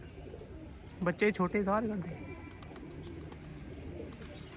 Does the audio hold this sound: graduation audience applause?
no